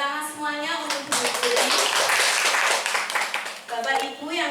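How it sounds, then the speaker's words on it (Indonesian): School audience clapping for the speaker Bu Dwi Puri, a dense burst of hand claps that rises sharply, holds for a few seconds and fades, with voices talking at the start and end. "Tepuk tangan semuanya untuk Bu Dwi Puri."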